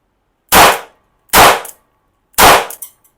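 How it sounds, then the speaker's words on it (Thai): A Zoraki R2 blank revolver with a 3-inch barrel fires three sharp, loud shots about a second apart, each with a short ringing tail. "ทดสอบปืนแบงกันนะครับ ลูกโม่ R2 3D 3 นิ้ว"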